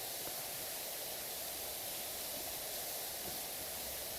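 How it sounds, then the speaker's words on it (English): Soft, even white-noise ambience from the video game PowerWash Simulator 2, a faint continuous hiss like spraying water with no other sounds or speech. "that gentle white noise ambiance"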